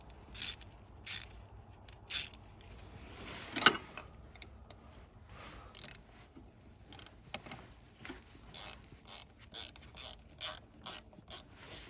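Socket ratchet working exhaust manifold nuts on a 2015 Mercedes Sprinter 2.1L, a series of short, close clicking bursts in quick rhythmic runs with brief pauses, plus one louder metallic clack, alone with no talk.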